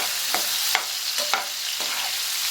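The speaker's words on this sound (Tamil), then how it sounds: "ப்ரான்ஸ்லாம் நல்லா பொரிஞ்சு வந்துருச்சு." Prawns deep-frying in hot oil over a medium flame, with a steady bright sizzle broken by a few sharp ladle stirs and scrapes close by.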